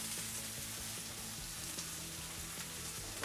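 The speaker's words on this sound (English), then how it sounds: "Now you want your pork chops themselves. And at this point, you just want to sear each side." Pork chops topped with lemons sear in a hot pan, giving a quiet, steady sizzle with faint crackles and a few soft knocks, and no voices.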